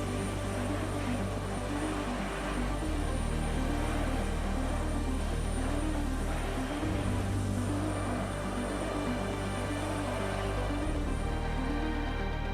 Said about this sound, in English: The aircraft began its pushback and started taxiing towards the runway.